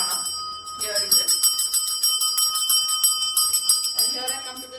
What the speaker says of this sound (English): I'm continuously ringing the bell